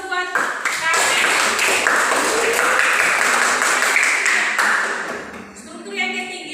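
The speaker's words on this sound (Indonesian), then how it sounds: "Berikan aplaus buat Carmen." A class claps for a student in a dense, close burst of applause that carries on for several seconds and then tapers off, with voices audible among the claps.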